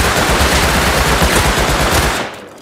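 A Tommy gun fitted with a muzzle boost fires in the survival game Rust, one loud, rapid uninterrupted burst of close automatic gunfire lasting about two seconds before cutting off.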